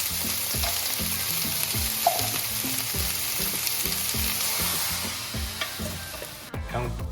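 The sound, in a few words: onion stir frying in a pan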